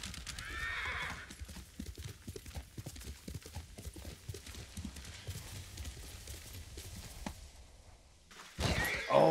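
A horse ridden in the Ghost of Tsushima video game: steady galloping hoofbeats close up, then a rider falling off with a loud crash and a whinny at the end.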